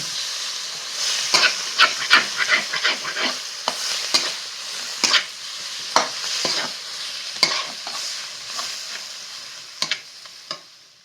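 Potato filling for vada pav being stirred in a pan over a wood-fired chulha, with repeated sharp scraping strokes over a steady background sizzle, close and fairly loud, no talk.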